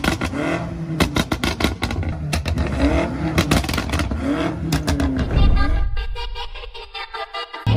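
A BMW M5 driving nearby with its engine revving hard, loud and continuous with rising and falling pitch sweeps and rattling clatter, then the engine note drops away toward the end.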